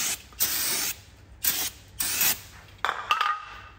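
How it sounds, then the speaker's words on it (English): Several short hissing bursts from an aerosol can sprayed onto a Chevy truck control arm, up close in quick separate puffs with brief pauses between them. "All right, quick spray."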